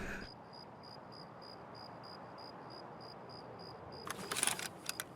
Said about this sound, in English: So you can hear those crickets that early morning.